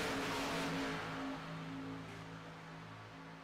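Several race car engines from a NASCAR Xfinity racing video game at Talladega drone together in a steady, loud roar with a slowly fading pitch, and nobody speaks.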